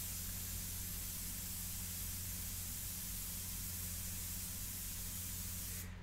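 An airbrush sprays India ink onto paper for a portrait, giving a steady, continuous close hiss that runs unbroken throughout with a low background hum.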